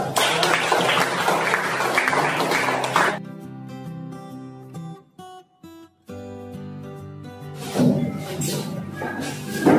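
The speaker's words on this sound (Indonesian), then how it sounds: "Kasih aplaus." A classroom audience claps in a dense, steady burst of applause that fades out, and a second round rises near the end, with a sustained electronic tone playing between and beneath the clapping.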